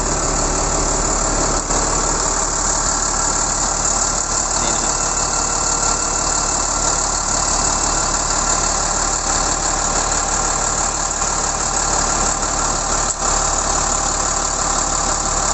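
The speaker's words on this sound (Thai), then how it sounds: "ระบบเครื่องยนต์ก็6สูบครับ" An XCMG LW330KN wheel loader's six-cylinder turbo diesel engine idles steadily and loudly up close, a constant low rumble with a rough mechanical vibration throughout.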